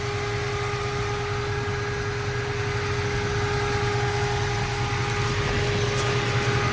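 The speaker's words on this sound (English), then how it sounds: "Just purrs." A 1940 Ford pickup hot rod's V8 with aluminium heads idles smoothly and steadily, a constant low rumble with a slight hum throughout, close up and with no talking.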